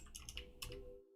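Fingers tap quickly on a computer keyboard, giving a short run of close, crisp clicks over a faint low hum.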